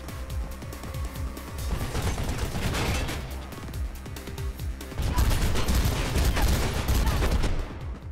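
Rapid gunfire in the video game Mirror's Edge, dense continuous bursts of shots with mechanical clatter, loud and close, growing heavier toward the end.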